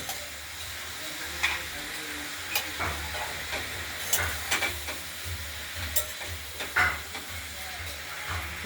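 Potatoes, beans, eggplant and onion fry in fish oil in a pan with a continuous close sizzle and hiss, broken by sharp scraping strokes as the vegetables are stirred.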